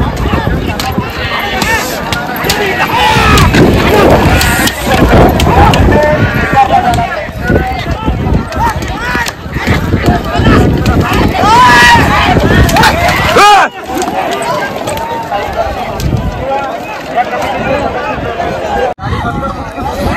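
Bullock carts thunder past at a village bullock cart race in Katalpada, with pounding hooves, rattling wheels and a loud, excited crowd roaring continuously throughout.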